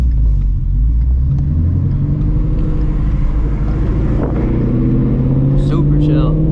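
A straight-piped Shelby GT350 cruises through a city downtown at night, its exhaust a steady, deep rumble that stays loud and close throughout, with a brief higher rise near the end.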